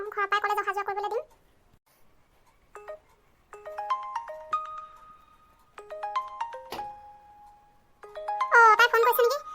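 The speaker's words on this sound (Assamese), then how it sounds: "তাই ফোন কৰিছে নেকি? ফোনটো ধৰি লগে পাই।" A cartoon mobile phone ringing with a tinkling melodic ringtone in several separate bursts, clear and close, with a cartoon voice speaking at the start and end.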